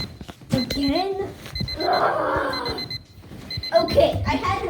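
A repeating electronic alarm clock beeps in short bursts, mixed with children's voices talking and exclaiming over it.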